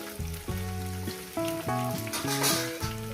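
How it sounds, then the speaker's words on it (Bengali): Fish frying in a pan beside slowly cooking onions: a steady, soft sizzle runs continuously under a louder melodic music track. "এই সাইডে আমি মাছটাকে ভেজে নেব এইভাবে"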